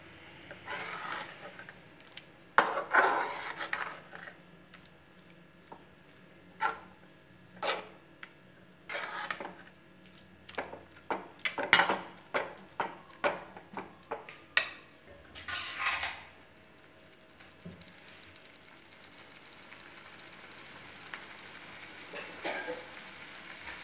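Grated white pumpkin being stirred in a pan for halwa, with irregular scraping and clinking of a spoon against the pan and a soft sizzle underneath, in bursts that thin out toward the end.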